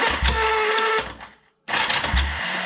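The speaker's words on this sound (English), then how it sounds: "let's hit the starter button. The starter clutch isn't great." Starter motor on a Honda CL 350 Scrambler with a worn starter clutch cranks the engine in two close, loud bursts separated by a short silent pause.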